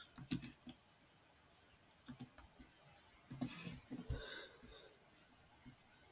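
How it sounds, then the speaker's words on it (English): Quiet clicks of a computer keyboard as a few short words are typed, arriving in small scattered bursts with pauses between them. "or if I just type product"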